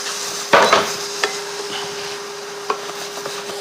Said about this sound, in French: Et laisser compoter gentiment en remuant régulièrement